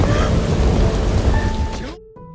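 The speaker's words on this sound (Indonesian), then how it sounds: "Di tengah derasnya hujan" Heavy rain pouring down, a loud, dense hiss of falling water with a low rumble beneath, cutting off abruptly near the end as a faint tone takes over.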